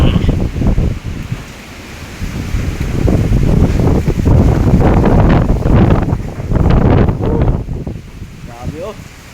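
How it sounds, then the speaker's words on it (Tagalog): Strong typhoon winds from Typhoon Tino roar and buffet the microphone with rain, a loud continuous gusting rush that swells and falls, while a person speaks briefly over it. "Grabe ang lakas ng hangin guys oh."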